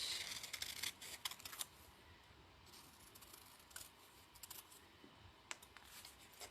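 Scissors snip through appliqué fabric pieces being cut out for a Santa book cover, a flurry of quick, soft close-up cuts at first, then sparser faint snips over a quiet room.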